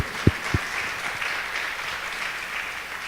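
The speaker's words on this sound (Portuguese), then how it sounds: "Dá uma salva de palmas para o Senhor Jesus." A church congregation applauds continuously at moderate volume, with a couple of sharp thumps near the start over the steady clapping.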